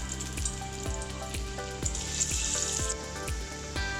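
Cheesy potato nuggets deep frying in hot oil: a steady bubbling sizzle over a constant low hum, with soft periodic knocks.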